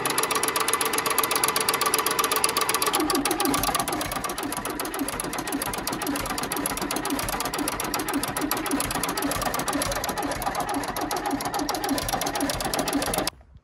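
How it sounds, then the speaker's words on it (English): An old diesel engine on a farm crop sprayer turns over steadily under the starter while catching on only one cylinder, giving a fast, loud, rattling mechanical chatter that carries on without a break. "It's just cranking over and only start on one cylinder."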